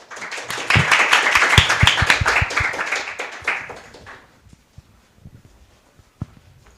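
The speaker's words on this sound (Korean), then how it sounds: "박수 한번 보내드릴게요" A small audience at an education festival session applauds a teacher's presentation, a few seconds of lively clapping that thins out to scattered single claps before stopping.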